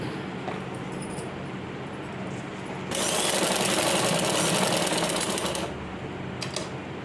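A sewing machine stitches the gathering on a pant, starting with quiet handling noise before a loud, steady mechanical whirring run of about three seconds that stops abruptly, followed by faint clicks.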